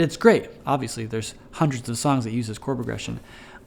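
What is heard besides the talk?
None of the usual background noises is heard.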